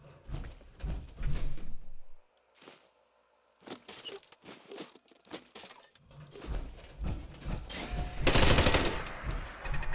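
Automatic gunfire from a machine gun turret in Fallout 4 comes in loud bursts: a heavy volley at the start, a pause, then scattered shots and a dense, harsh barrage near the end over game noise.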